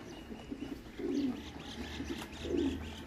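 Wild pigeons coo softly at close range, with two clear low coos and faint chirps over a quiet outdoor background.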